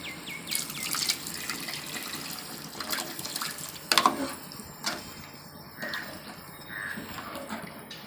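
Water left from boiling mutton is poured into a Chettinad mutton gravy, giving a clear, close splashing and trickling pour with a few louder glugs and gurgles.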